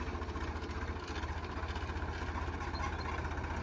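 A John Deere 5050D tractor engine idles with a steady low, rhythmic chugging pulse, close and even, with no talking over it.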